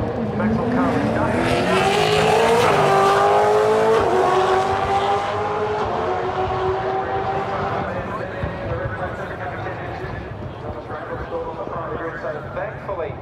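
V8 Supercars racing at the Sandown 400, loud engines howling and sweeping through rising and falling pitch as cars pass, with a race commentator talking over the noise throughout.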